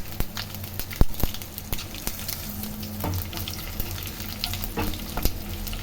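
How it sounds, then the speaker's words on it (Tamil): Cumin seeds and dried chilies crackling in hot oil for tempering, a close sizzle dotted with sharp pops and stirring clicks at an even level. "சீரகம் பொரியுதுங்க"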